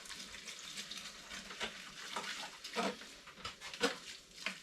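A whisk works through a thick coconut porter mixture with porridge oats, making soft, irregular wet scrapes and sloshing strokes, quiet and close, with a few sharper clinks near the end.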